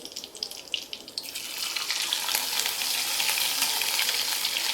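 Ginger and garlic dropped into hot oil with cumin and curry leaves, a few light crackles that swell into a loud, steady hissing sizzle, close up with no talking.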